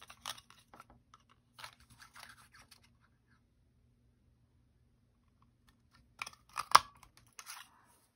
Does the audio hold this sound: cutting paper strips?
yes